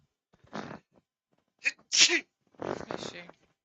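A single sharp sneeze bursts out close by, preceded by a quick intake of breath and followed by a brief spoken sound.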